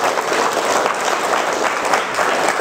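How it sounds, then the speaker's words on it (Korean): A church congregation at a Sunday worship service breaks into dense, sustained applause, a steady wash of many hands clapping together without any speech. "하나님께 감사의 영광의 박수 올리겠습니다."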